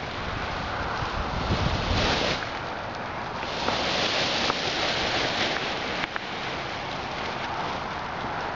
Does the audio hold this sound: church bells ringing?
no